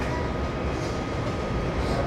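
A moving Alaska Railroad train heard from inside a railroad car gives a steady, low rumbling drone, loud and unbroken, with no talk.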